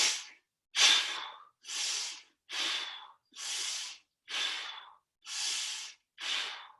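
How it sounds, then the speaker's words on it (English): Eight vigorous breathing cycles during a standing exercise session, each a forceful audible rush of air in through the nose and out through the mouth, evenly spaced and close up, with silence between them. "5 deep, vigorous breaths in through the nose, out through the mouth"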